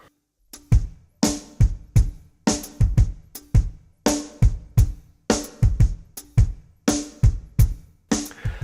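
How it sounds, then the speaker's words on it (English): A steady drum pattern of low bass drum thumps with sharp accented snare hits, evenly spaced and repeating throughout, played alone. "The tune here is simply the bass drum part and the accented snare notes"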